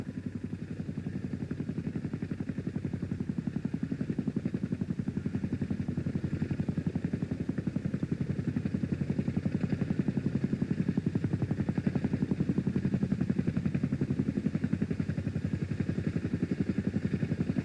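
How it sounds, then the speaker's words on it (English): A helicopter hovers low in position for a cargo sling hookup, its rotor and engine giving a loud, steady, rhythmic thrumming that stays close and constant throughout. "Now the helicopter is in position for the hookup."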